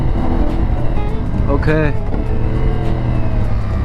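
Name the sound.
CFmoto 450NK motorcycle engine idling during U-turn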